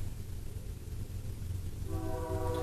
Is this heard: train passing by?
yes